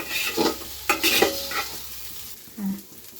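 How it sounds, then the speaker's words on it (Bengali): Rice is stirred and fried in a pan for plain Bengali pulao: scraping spoon strokes come in short bursts over a light sizzle, close and moderately loud, with no talking. "চালটা দেওয়ার পরে কিন্তু আমি এইভাবে নাড়িয়ে নিচ্ছি।"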